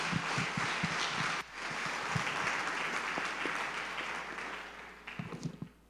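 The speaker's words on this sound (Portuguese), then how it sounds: "Dê um aplauso a Jesus." Church congregation applauding during a worship service, a steady wash of clapping that holds for most of the stretch, dips briefly and then returns, with a few low thumps mixed in.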